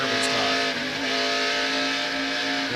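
A NASCAR Winston Cup race car at the 1991 Valleydale Meats 500, heard from inside the car, its engine droning loudly and steadily as the driver works on and off the throttle, with the pitch rising and dipping throughout.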